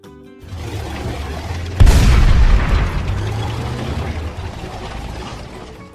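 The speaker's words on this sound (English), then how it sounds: "Tank." A tank fires, a sudden close, heavy boom followed by a long rumbling roll of explosion noise that slowly fades.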